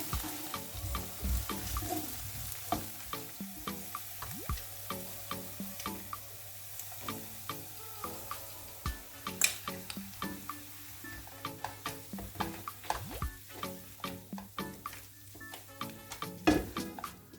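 Potato filling with onion and spices sautéing and being stirred in a pan for milföy mantı, a steady close sizzle broken by repeated scraping and tapping of the utensil against the pan.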